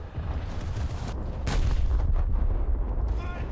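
Main cannon shells from landship tanks and the battleship Scharnhorst firing in a video game, heard as dense continuous booming and rumbling battle noise with a sharp blast around the middle and steady heavy gunfire throughout.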